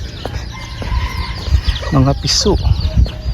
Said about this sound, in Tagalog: Ito po na po mga manok.